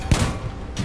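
Tank main gun firing in the Hell Let Loose World War II game, a single sharp close blast followed by a rumbling explosion tail, all within under a second.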